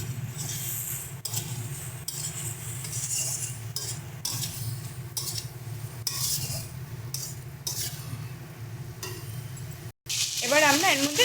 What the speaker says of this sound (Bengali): অল্প জল দিয়ে নাড়বে, নয়তো কিন্তু কড়াইয়ের সাথে লেগে যাবে মশলা